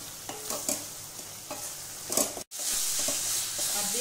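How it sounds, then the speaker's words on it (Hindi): Masala for aloo parwal sabzi fries over a medium flame, a dense continuous sizzle with periodic spoon stirs and scrapes, a brief gap midway, then the hiss returns strong; no speech. "बीच बीच में चलाते रहना है और मीडियम फ्लेम पे इसे भूनना है"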